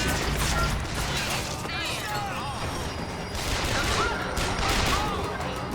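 Gunfire in the video game Bioshock Infinite comes as a dense, continuous clatter of shots and mechanical rattling, fairly loud throughout.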